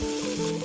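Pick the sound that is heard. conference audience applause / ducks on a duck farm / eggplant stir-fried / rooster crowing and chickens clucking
eggplant stir-fried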